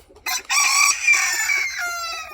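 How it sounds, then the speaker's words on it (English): A white rooster crows loudly and close by, one long strained call that rises and trails off over a couple of seconds. "These white ones are my roosters."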